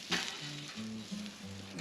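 A chicken thigh sizzles over a campfire, giving a faint, steady frying crackle under soft low tonal hums, with no talking.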